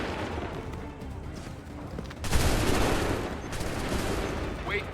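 Soldiers fire a musket volley in Assassin's Creed 3, a loud crashing burst of many guns at once that rings out over low ambient rumble.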